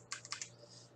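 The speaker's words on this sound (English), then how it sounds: "My keyboard." Quick keystrokes on a computer keyboard, a short burst of about four sharp clicks close by over a steady low hum, during a League of Legends Worlds play-in match stream.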